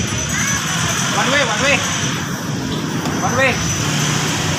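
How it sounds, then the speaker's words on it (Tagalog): Road traffic in a busy town street during a fiesta, with a steady loud wash of car and engine noise, while voices and horn-like tones rise and fall over the continuous rumble. "Medyo traffic na naman sa unahan."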